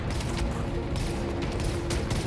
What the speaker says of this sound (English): A double explosion.